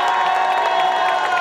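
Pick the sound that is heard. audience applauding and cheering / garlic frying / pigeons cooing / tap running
audience applauding and cheering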